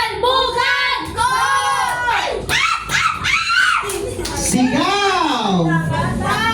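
Family members at a New Year party shout in turns during a shouting contest, loud strained voices rising and falling close by, with a host's talk between bursts.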